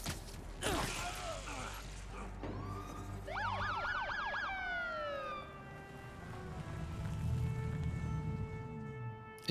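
A police car siren wails in the 2018 Spider-Man video game, rising and falling in quick repeated sweeps amid game ambience and mechanical clatter, with brief talk beforehand.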